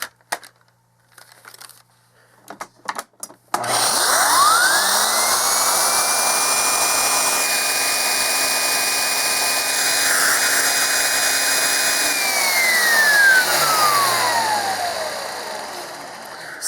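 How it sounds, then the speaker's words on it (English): A Shark Navigator Lift Away or Electrolux Epic 6500 vacuum cleaner with a turbo brush switches on after some quiet knocks, whines at a steady high pitch, then winds down at the end. "which vacuum you think has more suction as far as when it comes to making the turbo brush spin"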